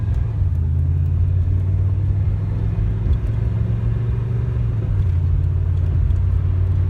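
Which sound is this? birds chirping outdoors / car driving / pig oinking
car driving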